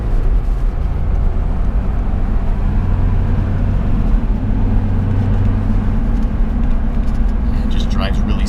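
A truck with a 5-speed manual transmission and 265,000 miles cruises along with a steady low engine and road drone heard from inside the cab, continuous and fairly loud throughout.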